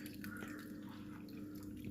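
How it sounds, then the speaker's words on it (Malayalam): Water is poured into a jaggery and spice mix for pani puri, making a faint, continuous trickle with light dripping, heard close and alone. "ഇനി നമുക്ക് ആവശ്യത്തിനുള്ള വെള്ളം ഒഴിച്ച് ഒന്ന് മിക്സ് ചെയ്തെടുക്കാം."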